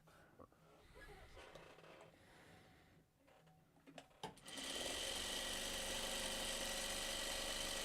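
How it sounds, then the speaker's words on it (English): After a few seconds of quiet handling and fabric rustle, a sewing machine starts up and runs steadily, a loud, continuous motor hum with rapid needle chatter as a piece is sewn on. "I'm just gonna sew that on there."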